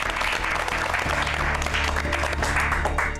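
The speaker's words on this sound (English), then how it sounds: "You all deserve a warm round of applause" Applause from the studio audience and crew for cooking show contestants, a steady, dense round of clapping throughout, fairly close and loud, with a faint hum underneath.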